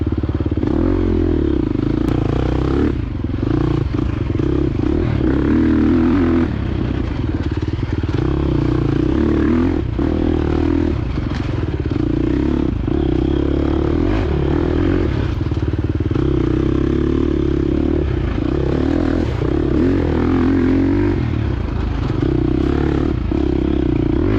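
A 2024 KTM 350 XC-F dirt bike rides hard on an off-road course, its loud engine droning and revving steadily close by, with clatter and scrapes from the terrain and no talk.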